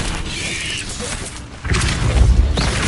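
A Confringo spell blast in Hogwarts Legacy, a loud booming burst with crackling debris that swells midway and rumbles on amid game combat effects.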